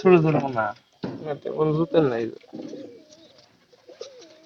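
Domestic pigeons give throaty, rolling coos in several close bursts, with a person talking nearby among the birds.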